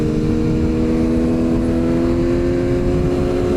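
A BMW M 1000 RR motorcycle engine runs loud and close with a steady, sustained drone and no talk.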